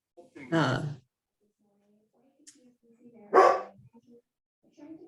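Dogs bark at home during an online meeting, two loud close barks separated by quiet pauses, with faint background sounds between them.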